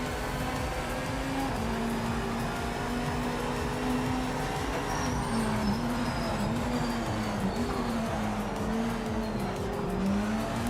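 Race car engines drone and whine continuously in the sim racing game Project Motor Racing, with pitch rising and falling through gear changes and tires squealing intermittently, steady and fairly quiet.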